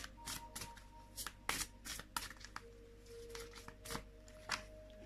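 Romance angel oracle cards shuffled in quick, dry riffling bursts with soft papery flicks and slides, close and fairly quiet, with no talking over them.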